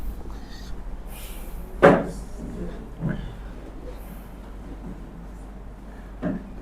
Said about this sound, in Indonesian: Itu pintu.